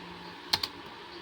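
A computer keyboard struck twice in quick succession, two sharp close clicks over a faint steady room hum.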